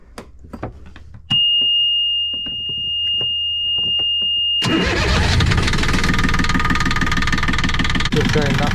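An engine cranks and starts after repair work, settling into a loud, steady running note that continues to the end, preceded by a long high-pitched electronic tone and scattered clicks and knocks.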